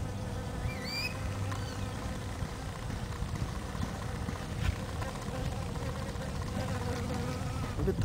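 A dense, continuous buzzing of many bees at Trichocereus terscheckii cactus flowers hums steadily up close, with a low background drone and a faint voice briefly in the mix.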